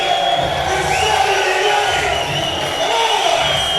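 A large crowd cheers and whoops loudly and steadily at a doubles racquetball finals as a player pumps them up, the roar sustained throughout with a broadcast voice mixed in.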